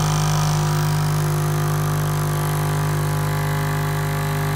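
An Adams pulse motor runs unloaded at steady speed, giving a loud, constant electric hum with a strong steady low tone and dense even whirring, unchanging throughout.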